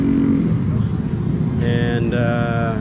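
A custom Honda Grom motorcycle with open intake and dual exhaust runs close by, its engine rumbling low before rising into a brief buzzing rev, with voices partly over it.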